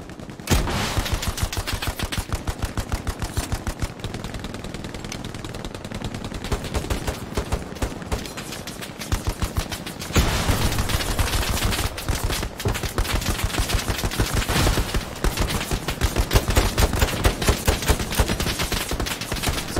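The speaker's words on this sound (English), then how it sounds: "celebratory gunfire!" Rapid, sustained bursts of automatic gunfire in Hell Let Loose, celebratory fire, loud and continuous with brief pauses, sounding like many guns firing at once.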